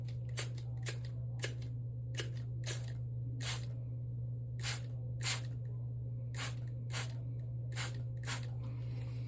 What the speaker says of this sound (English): we're just gonna spray the barrel and try to keep the end caps as nice as possible